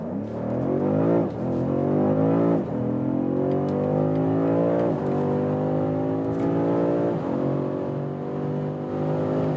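A BMW M5 accelerates hard from about 30 km/h on the autobahn, its engine roaring loud and close as revs climb in rising sweeps, with brief dips at each gear change before pulling steadily on.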